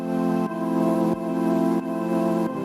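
A lo-fi hip-hop loop built from a Flowers sample pack plays on its own, with sustained chords, bass, plucked notes, bouncy drums and soft ambience in a steady groove, briefly dropping out twice.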